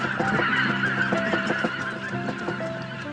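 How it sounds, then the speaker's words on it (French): Wild geese honk in a flock, a dense overlapping chorus of nasal calls repeating continuously and fairly close, with no talking. "Les oies sauvages sont déjà de retour."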